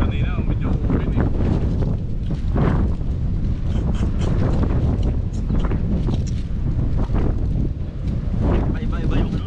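Strong gusty wind buffets the microphone outdoors, a loud, rumbling roar that swells and fades in waves, with people talking intermittently underneath.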